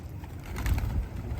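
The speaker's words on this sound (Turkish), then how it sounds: "Dur şu kuşları bir kovala Arif." Pigeons coo softly while being fed, low throaty murmurs close by in a brief burst, swelling slightly midway.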